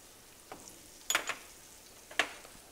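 Red onion and chili sautéing in melted butter for a pappardelle amatriciana, a soft steady sizzle with a few sharp spatters and pan clinks close by, no voices.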